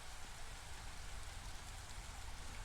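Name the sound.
rain in the video game Against the Storm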